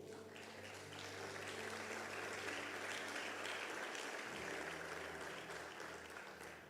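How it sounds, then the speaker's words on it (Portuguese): A church congregation claps continuously, a dense, sustained wash of applause with a low steady hum underneath. "Então, se tem, aplaude ao Senhor."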